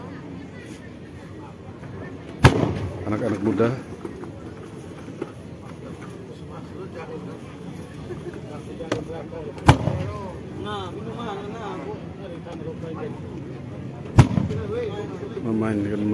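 Three sharp, booming bamboo cannon blasts ring out several seconds apart, each with a rumbling tail, while people talk and chatter continuously underneath.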